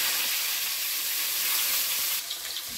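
Oil heats in a kadai for a Bengali fish curry, giving a steady bright sizzle and crackle that holds constant, then softens and changes texture near the end, with no talking over it.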